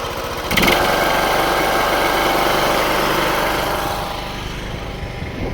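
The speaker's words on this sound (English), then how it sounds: "from here, right next to it, idling, it's fairly quiet." A Briggs and Stratton lawn mower engine idles close by, fitted with a quieter muffler, a steady low throbbing putter that holds evenly and eases slightly softer toward the end.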